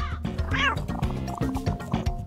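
Several kittens meow in quick overlapping cries, high and close, with short repeated calls crowding over one another and no clear pauses.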